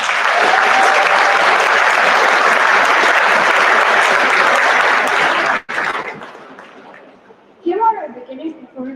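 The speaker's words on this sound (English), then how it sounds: "Let's give them a big round of applause before they start." Loud, dense audience applause fills a school band concert hall for several seconds, then cuts off and fades to a murmur before a brief voice speaks.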